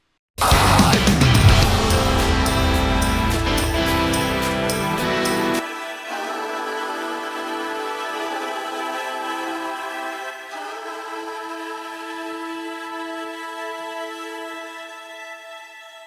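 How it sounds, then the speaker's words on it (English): Music washes into a stretched, shimmering granular reverb tail from a 2getheraudio plugin that smears into sustained, pitch-shifted drones and slowly thins and fades. "Using this granular setting in the reverb section, you could create some really kind of stretched out and super trippy"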